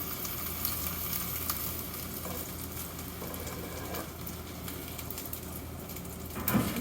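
A maitake mushroom fries in a pan under a pressing stock pot, giving a steady close sizzle and crackle with scattered pops and a brief metallic clatter near the end.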